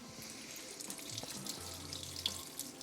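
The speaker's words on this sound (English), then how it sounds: "As you can see, the water is keep dripping." Water drips steadily from homemade paneer draining in a tied cloth, giving a soft continuous trickle with faint splashes, quiet and close.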